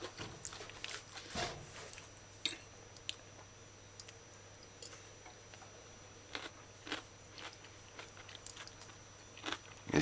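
Close, crisp crunching bites and chewing of raw carrot, repeated in irregular bursts against a quiet background hum.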